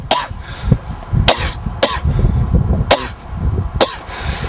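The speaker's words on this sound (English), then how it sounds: "This cough though, that cough." Several sharp, loud coughs spaced irregularly, about five distinct bursts over a low rumbling background.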